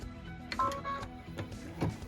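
An embroidery machine stitches a cut line across fabric clamped flat in the hoop for an all-in-the-hoop zipper pouch. The mechanical stitching patter is soft and steady, with a few brief clicks and no talk.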